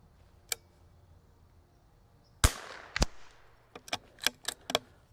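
Sharp .22LR precision rifle shots from a CZ 457 or Vudoo V22 at a range, one faint crack, then a loud close report followed by several quicker snapping cracks.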